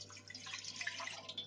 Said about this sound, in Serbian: U šerpu dodamo vodu